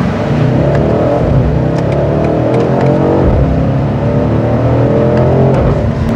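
A BMW M850i Gran Coupe's V8 engine accelerates hard, giving a loud, continuous engine roar that climbs in pitch through repeated rising sweeps, heard close from inside the car with no talking.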